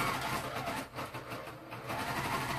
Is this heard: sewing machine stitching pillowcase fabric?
yes